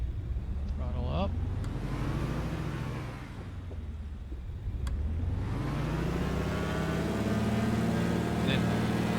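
In a flight simulator, a de Havilland Canada DHC-2 Beaver's radial engine is throttled up for takeoff, its loud, steady drone dipping briefly and then rising in pitch as power builds and holds.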